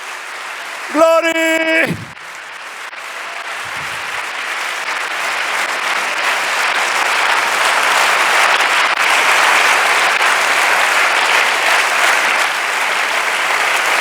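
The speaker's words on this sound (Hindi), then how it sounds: "आओ सारे अपने खुदा के लिए जोरदार तालियां।" A church congregation at a sermon bursts into loud, sustained applause that swells and carries on for over ten seconds, just after a short spoken word from the preacher.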